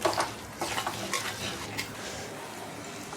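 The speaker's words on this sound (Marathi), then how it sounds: "आणि एक चमचा गरम मसाला ग्रेव्हीमध्ये मिक्स करून घ्यायचा आहे" A spoon stirs garam masala and chilli powder into an onion and peanut gravy for a drumstick curry, scraping and clinking against the pan in quick strokes over a faint sizzle, close and alone.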